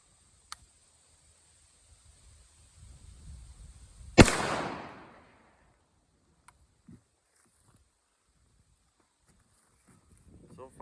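A Remington 742 rifle chambered in .30-06 fires a single loud, sharp shot with a brief ringing decay, preceded by faint rustling and followed by near silence with small scattered clicks.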